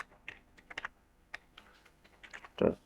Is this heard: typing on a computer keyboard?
yes